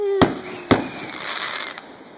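Fireworks bursting, two sharp close bangs followed by a lingering crackling hiss, loud and outdoors, with a faint tone fading underneath.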